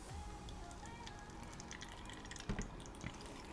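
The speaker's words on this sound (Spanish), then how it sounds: "Voy a echar primero el agua." Distilled water being poured into a plastic bottle while mixing a homemade airbrush cleaner, a steady trickling flow with a few louder splashes near the end.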